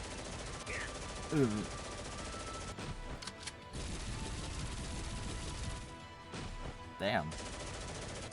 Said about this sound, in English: Sounds of gunshots can be heard ringing from all directions.